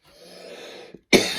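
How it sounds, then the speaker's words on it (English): A single harsh cough bursts out close and loud after a stretch of quiet breathy throat noise, with no talking. "Sorry, apologize for the coughing."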